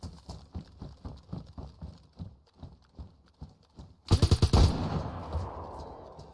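Gunfire in the DayZ video game as AI enemies are shot: a rapid burst of several loud shots with a ringing tail, after steady rhythmic hoof-like clip-clop thuds, and no speech.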